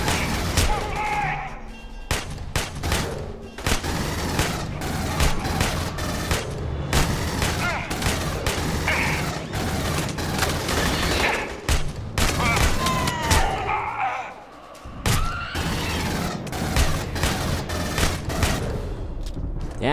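Gunfire from the Aliens: Colonial Marines video game, in loud, dense bursts of rapid automatic shots and booming impacts that run almost nonstop, with brief pauses and a voice occasionally talking.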